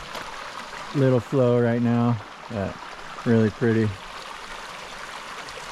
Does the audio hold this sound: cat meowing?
no